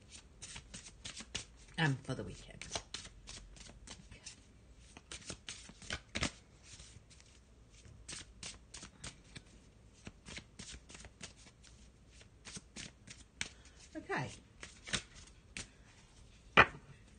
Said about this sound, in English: I'm just going to have a shuffle of this black and white Faulkner deck